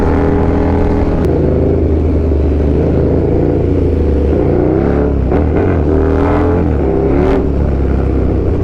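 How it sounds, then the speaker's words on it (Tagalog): A loud engine droning and revving steadily nearby, its pitch rising and falling under a constant rumble. "Ingay ng motor no? Naririnig mo ba?"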